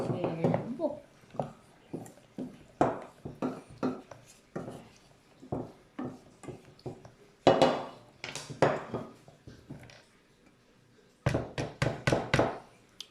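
Clean metal cooking pot set down in a sink, giving a string of clanks and knocks against the basin, interspersed with nearby talk.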